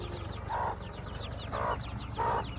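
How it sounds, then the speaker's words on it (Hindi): A hen with her chicks clucks in a village yard on freshly dug soil, three low, throaty calls spaced about a second apart over faint high chick peeps and a steady low engine rumble. "ये मुर्गी भी आ गई अपने बच्चों के साथ"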